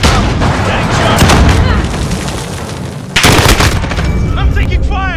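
Dense, loud gunfire in a Call of Duty Modern Warfare Domination match on the Scrapyard map, with rapid automatic bursts and booming shots running almost continuously, a sharp heavy volley near the middle, game voices mixed in.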